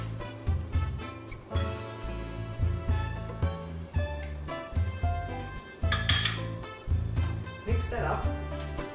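A utensil clinks and scrapes rhythmically against a bowl while sweet almond oil body butter is mixed. The repeated strokes sound close, under intermittent speech.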